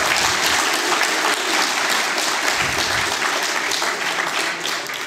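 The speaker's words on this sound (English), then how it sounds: "prepare to clap or not" A conference audience at a network operators' meeting claps together in a loud, continuous burst of applause lasting about five seconds, with no speech over it.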